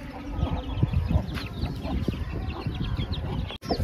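A hen gives loud clucking, crowing-like calls close by over a busy farmyard background of other fowl and rustling, with a brief dropout near the end.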